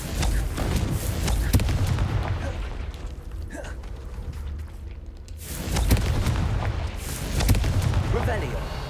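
Blasting-spell explosions in Hogwarts Legacy sound as loud, booming bursts with rumbling tails, recurring throughout over game ambience, while a voice talks across part of it.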